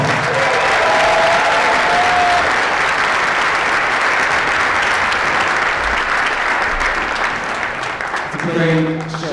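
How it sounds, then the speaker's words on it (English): An audience at an elementary and high school winter band and chorus concert breaks into loud, steady applause that carries on for the full stretch, with a few cheers mixed in. "awesome and a round of applause."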